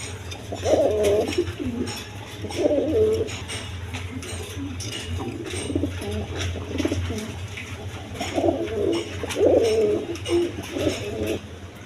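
Pigeons, including Damascene pigeons, coo repeatedly at a farm in soft, rolling bursts over a steady low hum, several birds calling at moderate volume with short pauses between phrases.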